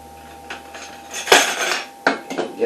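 A half-gallon glass canning jar being handled, giving a few hard clinks and knocks with short rattles between them, close and fairly loud with no talking.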